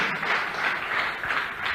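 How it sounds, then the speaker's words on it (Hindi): An audience at a talk claps together, a dense, steady patter of many hands at moderate distance sustained throughout without a break. "जोरदार तालियां इनके लिए"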